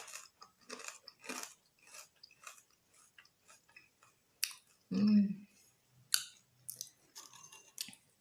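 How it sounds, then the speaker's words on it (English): Close, crisp crunching of Russian dried bread rusks (sukhariki) being bitten and chewed, a quiet series of irregular bites and crackles with one louder crunch midway. "today I'm gonna be eating sukhariki"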